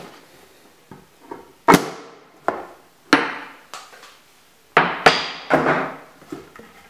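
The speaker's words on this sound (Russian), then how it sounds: "У меня этот молоток подвернулся." Hammer taps knocking out a fitting on a plumbing water trap, about eight sharp separate knocks in an uneven rhythm, close and fairly loud, with no talking.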